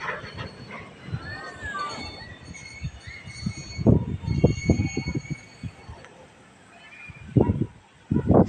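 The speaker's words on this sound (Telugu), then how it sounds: "స్లోగా కదులుతుంది ట్రైన్" A train rumbles slowly with clanking, thudding wheel bursts and faint metallic squeals, under distant voices and a steady background hum.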